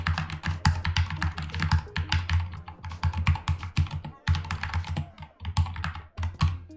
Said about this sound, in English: this is when I'm typing hard.